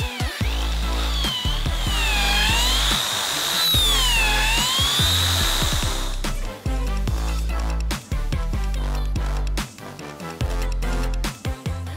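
Power drill boring holes into an agarwood tree trunk, first a long whining run with rising and falling pitch, then a series of short loud bursts and stops, close and alone with no talk.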